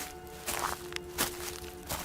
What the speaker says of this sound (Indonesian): Tiba-tiba aku mendengar ada suara langkah kaki yang sedang mendekat ke arahku.